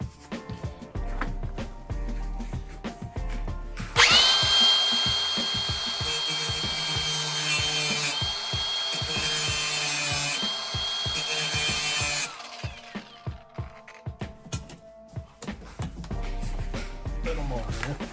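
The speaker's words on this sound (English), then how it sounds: "Take the grinder and grind on that a bit." An angle grinder works on the steel floor pan of a 1968 Volkswagen Beetle, a loud continuous whine lasting several seconds, framed by clattering, knocking workshop handling before and after.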